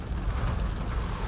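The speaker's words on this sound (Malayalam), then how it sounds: "ഒരു രക്ഷയില്ലാത്ത മഴ" Heavy monsoon rain pours down as a dense, even roar of broadband noise with a rumbling low end, steady and close, with no voices.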